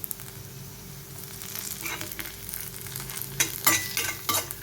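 Pirandai (veldt grape) sautéing in a pan with tamarind, onion and garlic, a soft steady sizzle with scattered scraping stirs growing busier toward the end.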